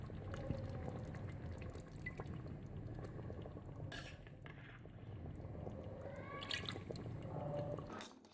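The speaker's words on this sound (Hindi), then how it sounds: "अब हम इसमें 1 कप ऑयल डालेंगे और फिर हम इसकी भुनाई करेंगे।" Cooking oil, a full cup, poured into a pot of simmering goat trotter curry, a steady liquid gurgle and bubbling with a few brighter splashes near the middle and end, close and continuous with no talking.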